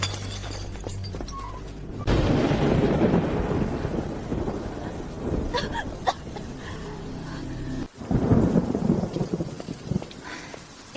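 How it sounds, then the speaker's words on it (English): Heavy rain pours steadily with deep rolling thunder swelling in loud bursts, sounding close and alone with no voices. "It's raining so hard."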